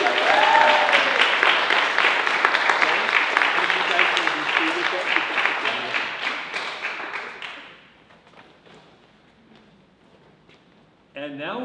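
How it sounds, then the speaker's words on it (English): An audience at an end-of-year student scholar recognition event claps in a loud, sustained round of applause that fades out, leaving near quiet before a voice begins at the end. "One more round of applause."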